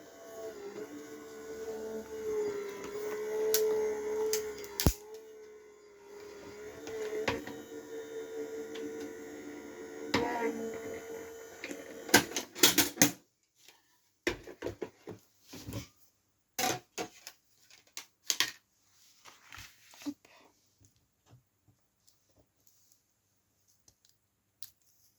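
An inked printmaking plate in its paper sandwich rolls through a press machine, first as a humming, grinding run of several seconds and then as a scatter of sharp mechanical clicks and clacks, all close and indoors.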